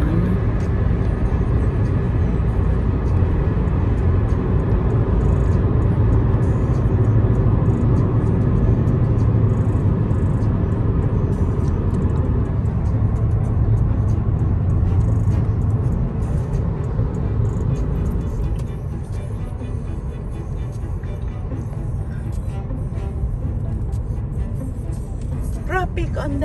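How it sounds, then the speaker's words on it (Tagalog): Highway traffic on Ontario's 401 near Cambridge, Canada, makes a continuous low rumble of passing cars heard from a moving vehicle, steady and fairly loud, easing off slightly toward the end. "Traffic on the highway."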